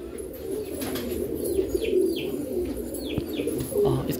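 Ameeran Tambda pigeons on a Hyderabad farm keep up a continuous low cooing, with light chirps and a brief flutter of wings close by.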